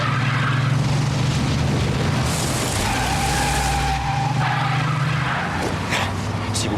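A car skids during a chase: a loud, sustained screech of tires mixed with roaring engine noise that runs unbroken from start to finish.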